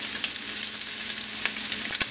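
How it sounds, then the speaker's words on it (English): Canadian bacon sizzles and crackles steadily in a hot pan on the stove, a dense continuous frying hiss with a few sharper pops, close and fairly loud with no talking. "It's sizzling."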